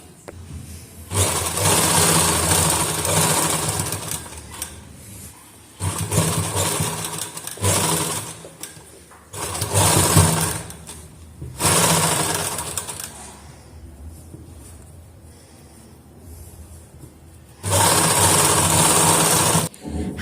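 A sewing machine stitches a double-folded neckline in several loud, close bursts lasting one to three seconds each, separated by short pauses, with no talking.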